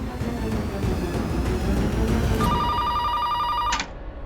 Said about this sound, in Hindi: उस फोन से करण की लैंडलाइन पे फोन लगाओ।